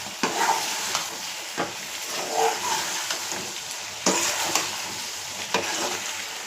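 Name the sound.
frying and stirring spices in oil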